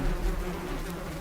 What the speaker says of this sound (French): Une guêpe.